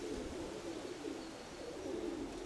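A pigeon, a grey-mottled domestic bird, coos in a low, rolling repeated call, fairly faint and close, with two soft bursts separated by a brief lull.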